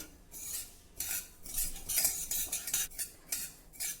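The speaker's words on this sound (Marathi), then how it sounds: "मंद गॅसवर ही खसखस देखील थोडी भाजून घेऊ" Poppy seeds dry-roasting in a pan over a low flame, with a spoon repeatedly scraping and clinking against the metal in irregular bursts, close and moderately quiet, no voices.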